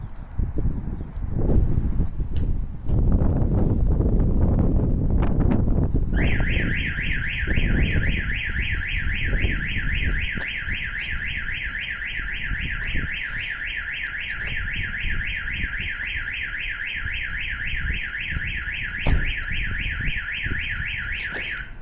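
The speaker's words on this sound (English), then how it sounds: "Someone's actually forced the door open, the alarm trigger." A loud electronic StarLine E Series alarm on a Mercedes-Benz Vito van starts after several seconds of clunking and rattling as the door is forced, then wails continuously in a rapid warbling tone for the rest of the clip.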